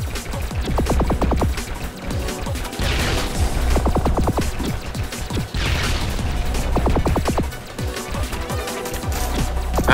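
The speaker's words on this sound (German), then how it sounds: "Das sind Schüsse" Rapid volleys of shots fire in Sky Force Anniversary, a PS4 vertical shooter, in repeated quick bursts with crashes and explosions over a steady, loud game soundtrack.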